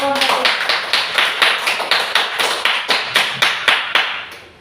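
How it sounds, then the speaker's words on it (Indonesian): Classroom applause from students for a student group after their presentation, a run of about a dozen sharp, evenly spaced claps sounding together, fairly close and loud, with some voices mixed in. "Silakan berikan tepuk tangan untuk kelompok."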